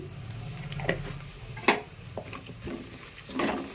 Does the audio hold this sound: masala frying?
yes